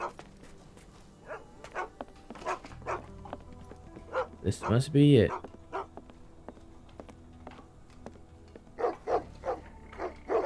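Dogs barking and whimpering in the video game Sherlock Holmes: The Awakened, with a burst of loud barking in the middle and short yips scattered around it, under someone speaking.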